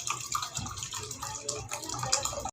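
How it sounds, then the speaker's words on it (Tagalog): Water poured into a pot of mung bean soup with onions on the stove, a steady close splashing rush running for a few seconds, then cutting off abruptly; no talking. "Tapos dagdagan lang po natin ng konting tubig para maraming sabaw at"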